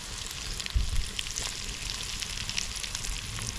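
Chopped onions fry in hot oil in a clay pot, making a quiet, steady sizzle with a soft thump as they go in near the start.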